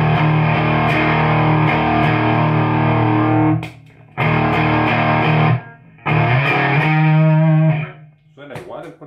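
Distorted electric guitar played through channel 2 of a Fender Bassman amp, routed via an ABY pedal, in three loud sustained strummed phrases separated by short gaps, with brief speech at the end.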